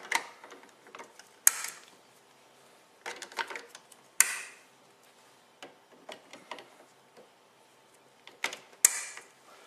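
HP364 refillable ink cartridges clicked back into an inkjet printer: a few sharp plastic snaps and clicks spread across the stretch, with lighter ticking and rattling handling noises between them, close and fairly quiet.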